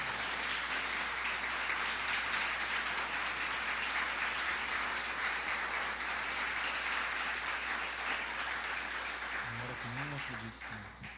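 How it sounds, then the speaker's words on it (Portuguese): Congregation applause during a church service, dense and steady clapping filling the room throughout, thinning slightly at the very end as a voice begins to speak. "Vamos aplaudir o Senhor pela Sua palavra?"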